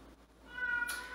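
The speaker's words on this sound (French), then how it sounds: "Ce que vous entendez, c'est mon chat." A cat meows once, a short tonal call near the middle, fairly quiet against a soft room background with no talking.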